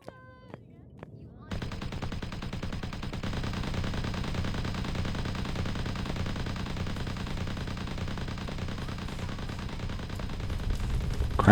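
Sustained automatic gunfire in the sci-fi space game Empyrion Galactic Survival, Eden Reforged 2, a few faint sounds at first, then a dense, loud, continuous rattle of shots from about 1.5 seconds on to the end.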